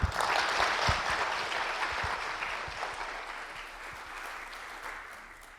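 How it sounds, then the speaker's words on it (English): An audience applauds after a lecture on globalization by a Nobel laureate, loud clapping with a few sharp close claps at the start that gradually softens over several seconds. "let's give the professor another round of applause"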